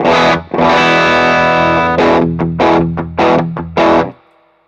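Electric guitar run through a King of Tone overdrive pedal gives a loud, thick, meaty distorted tone with heavy low end: sustained chords followed by a few choppy, rhythmic stabs that ring out and fade.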